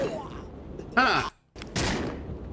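Video game gunshots: two loud bursts of firing, separated by a short near-silent gap, with voice-like sounds blended in.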